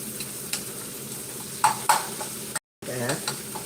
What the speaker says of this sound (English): I'm going to flip my tomatoes to the other side and let them simmer on that side